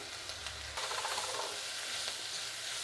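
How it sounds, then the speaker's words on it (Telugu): Chopped onions and chili powder frying in a hot pan for a quick chutney, a steady close sizzle with light stirring scrapes, no talk. "ఇప్పుడు కారం కూడా కొంచెంసేపు వేయించాలి"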